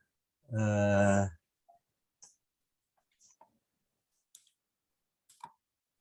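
Mouse clicks while sharing a computer screen: a short tonal beep, then four or five faint, sharp, separate clicks spread out in near silence.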